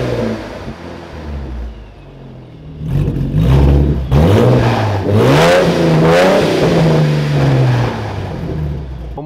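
A Mercedes engine runs near and loud, its revs climbing and falling in repeated swells over a steady rumble, with no talk over it.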